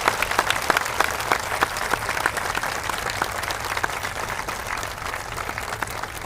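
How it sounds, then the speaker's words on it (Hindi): An outdoor village gathering in Chhattisgarh breaks into steady applause to welcome local women and the village head. Many hands clap close by with distinct individual claps poking through a continuous, moderately loud patter that lasts several seconds, with no speech over it. "ओकरा मन में जोरदार ताली से स्वागत करें।"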